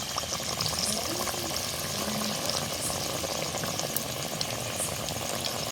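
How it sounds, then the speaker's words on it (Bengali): Sandwiches deep-frying in hot oil at home, giving a steady, dense sizzle with crackling bubbles that holds at an even level throughout, close and alone with no talking. "তেল গরম হয়ে গেছে, এবারে এক এক করে দিয়ে দেব গরম তেলে।"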